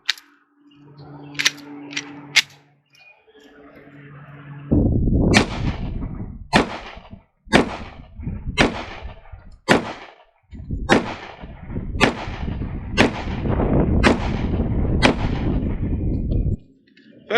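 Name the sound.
gunshots from ADE Delta FDE .45 ACP pistol, 230 grain hollow points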